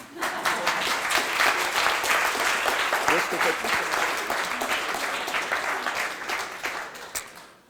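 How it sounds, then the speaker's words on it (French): An audience applauds a presenter at a developer demo evening, a full steady burst of clapping from many hands that holds strong for several seconds before tapering off at the end. "Vous pouvez m'applaudir"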